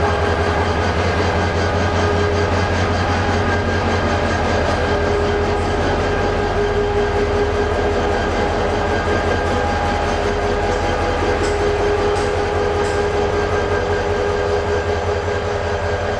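The Nasirabad Express rolls along the rails with a loud, steady rumble and a continuous rhythmic clatter of wheels over track joints, heard from on board without voices.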